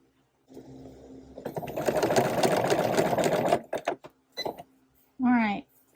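Sewing machine stitching old denim jeans into a tote bag, a loud rapid mechanical whir running for about three seconds, followed by a few short bursts and a brief voice.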